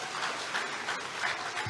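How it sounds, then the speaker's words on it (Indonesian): Audience applause at an academic oration at Politeknik Negeri Bandung, a steady wash of clapping from a hall full of students, sustained and even throughout. "tepuk tangan buat Anda semua"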